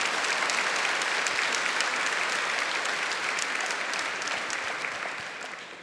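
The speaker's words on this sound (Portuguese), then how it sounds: "Pode aplaudir." A church congregation at a religious talk breaks into sustained, dense applause, a loud broadband clatter of many hands that holds steady and tapers off slightly toward the end.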